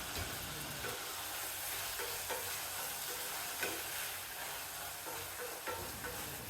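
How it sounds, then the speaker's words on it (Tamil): Onions, tomatoes and green chillies with a little salt sauté in a pot, giving a steady close sizzle broken by occasional scraping stir strokes, with no voices. "அடிக்கடி கிளறி விட்டு வதக்கணும்"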